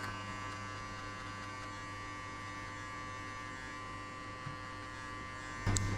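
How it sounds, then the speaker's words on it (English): An electric hair clipper buzzing steadily close up while cutting a mid skin fade, a constant quiet hum with no talk and a brief louder bump near the end. "I'll close the clipper halfway and I will hit only on the middle."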